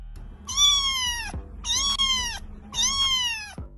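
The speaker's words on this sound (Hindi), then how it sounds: "तभी इन्हें घर के पीछे गार्डन से एक बिल्ली की आवाज सुनाई देती है।" A cat meows three times in a row, each call drawn out and clear, with short pauses between them against a quiet background.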